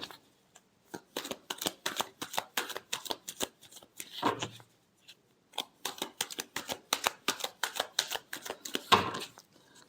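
Tarot cards are shuffled close up in quick rhythmic riffles and taps, with short pauses between bursts and no speech.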